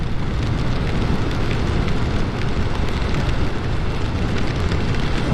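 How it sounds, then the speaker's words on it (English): Steady, dense rain and road noise while riding a Honda Navi motorcycle through wet weather in the Pacific Northwest, a constant loud broadband wash with no pauses and no voices. "Looks like I'm getting deeper and deeper into the rain."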